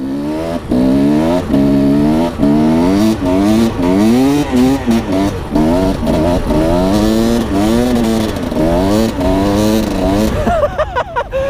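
A motorcycle engine revs up again and again in rising, sweeping bursts, loud and close, while the rear wheel slides on snow.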